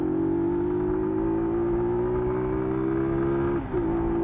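A car engine holds a steady high-pitched drone near top-end RPM during a clutchless upshift, droning loud and close with a brief dip near the end, no voices.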